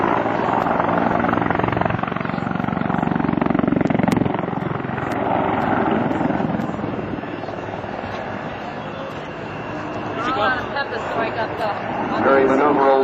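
A CH-146 Griffon helicopter flies a demonstration at an air national guard open house, its rotor and engine droning loudly and steadily throughout under a public-address commentator's voice.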